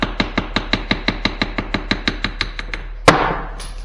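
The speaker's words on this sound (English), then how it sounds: "I'm just lightly tapping it with the screwdriver." A soft-sided screwdriver taps lightly on a ship hatch part about fifteen times in a steady, even rhythm, close and clear. A single louder knock follows, with a brief scrape after it.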